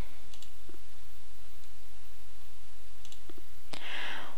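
A few quick, sharp computer mouse clicks over a quiet room hum, with a slightly louder click near the end.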